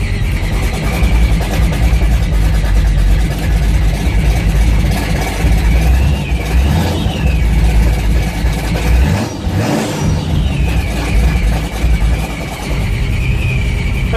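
A supercharged 1969 Buick Skylark engine with its exhaust cutout open rumbles loudly and close at a rough idle, rising into a couple of sharp revs before settling back.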